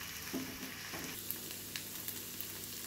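Tomato paste frying in oil over high heat for a drumstick egg tomato curry, a steady soft sizzle with a few faint stirring scrapes and clicks, close and continuous with no talking.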